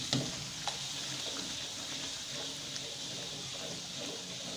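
Spice paste sizzles steadily in a pan as it is stirred, a soft continuous frying hiss with a few faint scrapes and clinks of the utensil, fairly quiet.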